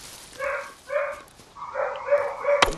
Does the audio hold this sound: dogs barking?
yes